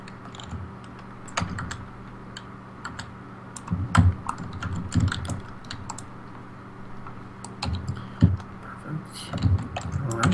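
Clicky typing on a computer keyboard during a World of Warcraft session, irregular bursts of keystrokes close up over a low steady hum, quieter gaps between clusters.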